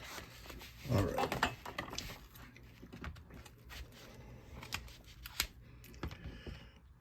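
Scissors cut open a sturdily packed envelope of comics at a desk, giving irregular crinkling, snipping and paper-rustling noises, soft and close.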